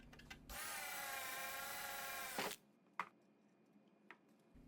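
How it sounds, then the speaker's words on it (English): A power drill boring a small pilot hole in steel unistrut for a sliding fence gate: a steady whine for about two seconds that cuts off, followed by a couple of sharp metallic clicks. "Every single hole was started with a 1/8 inch pilot hole."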